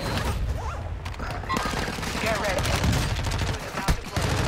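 Gunfire bursts crackle through a Warzone 2 match, several rapid shots stacking into dense, loud volleys with a sharp crack near the end, over game ambience and with a voice chatting in the background.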